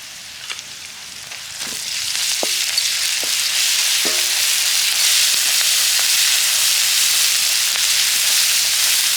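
Ginger garlic paste frying in a pan as it is stirred, a loud, steady close sizzle that builds over the first seconds and then holds, with faint occasional clicks.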